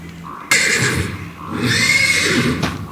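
A horse neighing in the video game Lunacy, two loud whinnies in close succession, each a drawn-out, wavering cry, with a low rumbling background beneath.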